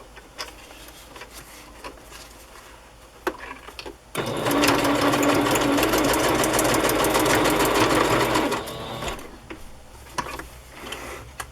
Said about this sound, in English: I'm just going to sew right here.